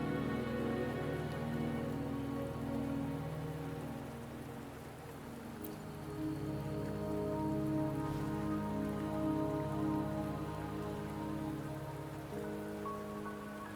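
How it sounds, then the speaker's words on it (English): Steady rain pours in the video game Wuthering Waves, a dense continuous hiss of drops on surfaces over a low sustained musical drone, with no talking. "Don't worry, the rain won't last much longer."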